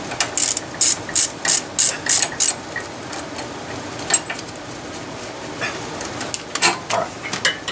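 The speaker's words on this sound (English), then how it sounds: "and loosen the bolt up. I gotta hold the Torx." A ratchet wrench turning a Torx bit to loosen a bolt while replacing front struts and sway bar links on a 1999–2005 Volvo S60: crisp, close clicking in quick bursts, a regular run early on, then sparser clicks later.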